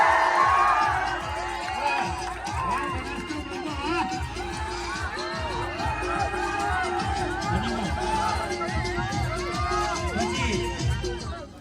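Crowd cheering and clapping to welcome a guest onto the stage at a public gathering in Radhanpur, a steady dense roar of applause and whoops mixed with crowd chatter, continuous at moderate loudness throughout.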